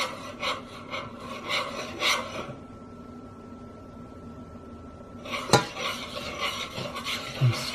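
Peanut butter and lard are stirred in a pot for homemade bird suet, a spoon rasping and scraping in short rhythmic bursts, pausing for a few quiet seconds before the scraping resumes.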